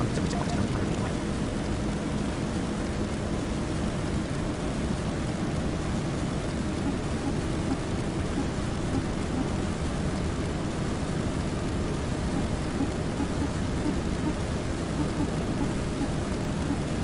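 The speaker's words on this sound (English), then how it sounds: "Looks like we're getting some rain on the aircraft as well" Rain falls on the fuselage of a Boeing 737-700 in a flight simulator during an RNAV approach into Punta Cana, a steady, dense hiss that holds evenly throughout without any talking.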